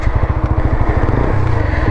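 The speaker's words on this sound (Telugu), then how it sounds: "సో టైం వేస్ట్ చేయకుండా బండి రైడ్ చేద్దాం" 2024 TVS Apache RTR 160 4V motorcycle engine while riding, a steady loud rapid thumping exhaust pulse with rough broadband noise and no voices.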